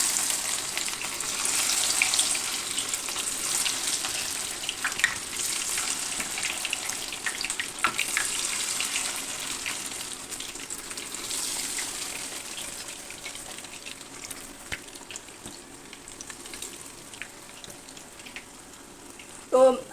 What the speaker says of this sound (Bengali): এই যে মাছটা আমি একদম উল্টিয়ে পাল্টিয়ে মুচমুচে করে ভেজে নিচ্ছি